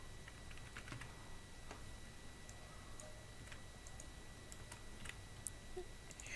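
Typing on a computer keyboard while writing Flutter code, a steady patter of soft key clicks close by, faint over a low background hum.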